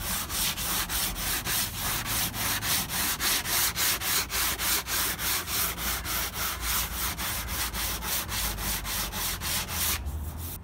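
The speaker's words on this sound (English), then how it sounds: "All it just needs, just to finish it off, is a little bit of sandpaper on the edge" Sandpaper is rubbed back and forth along the cut edge of a PVC sheet for a shower build, a close, rhythmic scraping of quick even strokes that carries on steadily with no talk.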